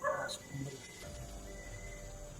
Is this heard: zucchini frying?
no